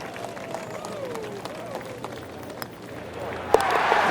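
Crowd in the EA Sports PGA golf video game reacting to an eagle at a mountain course, a low murmur swelling into loud cheering and applause near the end, with commentary voices over it.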